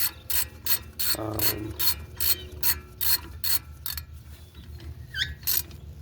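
Ratchet wrench clicking in quick bursts as brake caliper bolts are tightened on a 2008 Honda Odyssey during a front brake pad job, close and fairly loud, with a steady low hum underneath.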